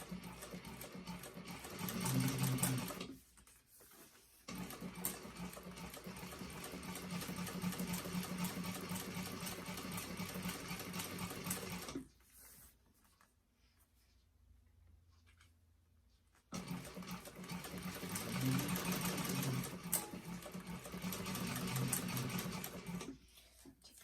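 A sewing machine fitted with a walking foot stitches piping in three steady runs of rapid mechanical whirring, close and even, separated by brief pauses.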